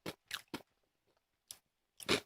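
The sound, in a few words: biting and crunching a peanut seaweed snack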